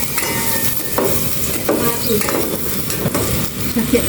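Onions frying in a pan with a steady close sizzle, broken by occasional stirring scrapes and light clinks of a utensil against the pan.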